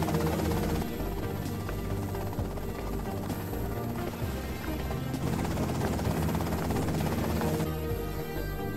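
A helicopter carrying the other party in GTA: Vice City thrums steadily and loudly throughout, a continuous rotor and engine drone with no pauses and no voices.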